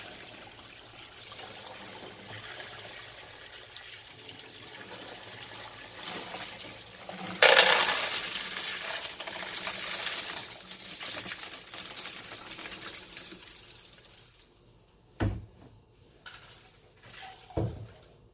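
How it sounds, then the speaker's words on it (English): Wet-tumbled 9mm brass casings rattle and clatter continuously in a Frankford Arsenal rotating media separator, building to a loud rush before a few sharp knocks near the end. "I'm using the media separator that Frankfurt Arsenal makes."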